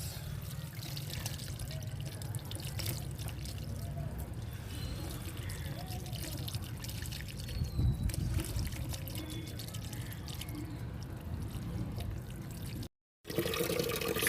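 Water poured over a body while bathing, a steady splashing trickle that runs continuously throughout with a brief gap near the end.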